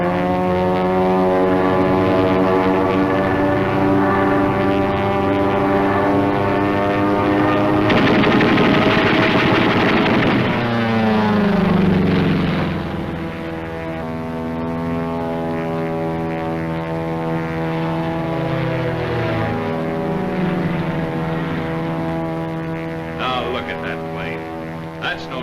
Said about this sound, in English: Zero, that's a P-40.